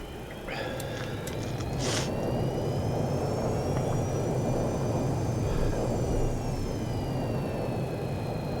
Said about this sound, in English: flaps are moving